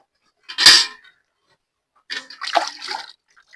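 Warm water is poured and splashed over a buffalo being washed. There is one short splash, a pause, then a longer burst of sloshing and dripping, close by.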